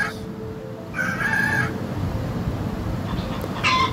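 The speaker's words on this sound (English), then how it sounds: "Rooster." A rooster crows nearby, one loud drawn-out call followed by a shorter second crow, with a quiet background between them.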